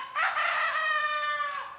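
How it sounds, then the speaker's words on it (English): A rooster crows once, a single loud, close, drawn-out call lasting over a second against a quiet background. "the cats are going crazy, the rooster's crowing, but we'll push through it."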